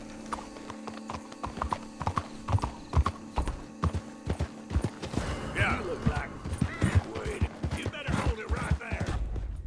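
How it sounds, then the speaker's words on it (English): Horse hooves clip-clopping in the video game Red Dead Redemption 2: a steady run of sharp hoof strikes, close and loud. A horse whinnies briefly, with game ambience and music underneath and someone speaking at times. "Let's get on the horse."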